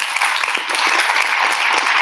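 An audience at an Italian book presentation in Cagliari breaks into applause, a close, loud and dense burst of many hands clapping that runs steadily through the short moment.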